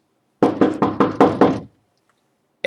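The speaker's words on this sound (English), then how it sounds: "Harry knocked" Six quick, firm knocks on an office door, close and loud in a steady rhythm, followed by silence and then the start of another sound at the very end.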